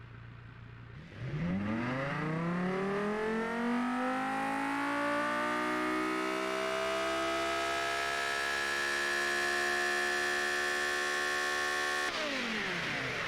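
V10 engine of a custom supercar in a driving game revving up from idle, a loud sustained rising whine with layered harmonics that climbs steadily and holds near the top for several seconds before dropping off.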